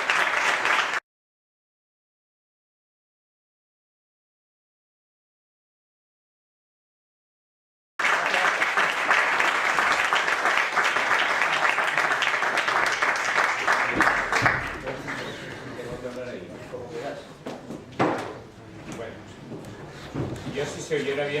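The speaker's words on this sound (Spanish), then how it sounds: "le damos paso con un aplauso" Audience applause at a local historical memory talk in Torres de Berrellén, a dense clapping wash lasting several seconds after a silent gap, then fading into murmuring and scattered handling noises.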